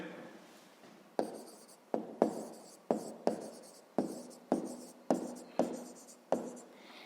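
A pen or pencil taps and scratches across paper in about ten short, sharp strokes, each starting with a click and trailing off, close and fairly quiet.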